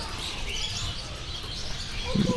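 A male canary sings in short, bright chirping phrases that sit low and thin under a steady wash of background noise.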